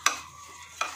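A spoon stirring fruit cream salad sweetened with crystal sugar, two short scraping swishes close up about a second apart, with a faint gritty rasp between them.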